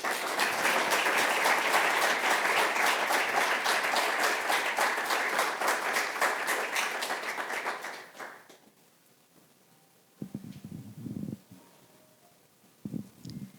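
An audience at a health justice lecture claps steadily and loudly for about eight seconds, the applause fading out, followed by brief low talk near the end.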